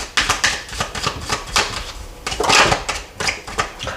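Oracle cards being shuffled and cut for a reading: a close, continuous flutter of rapid papery clicks and riffles that swells and eases in uneven waves.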